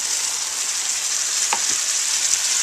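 Corn maque choux sizzling in a pan over medium-high heat, browned in margarine, as vegetable stock is added; a steady, close hiss of frying fills the whole stretch with a couple of faint clinks partway through.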